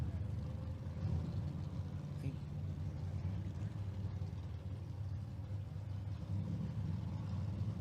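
A little Ford Falcon race car circles a track, heard as a faint, distant, steady engine rumble with a murmur of background voices.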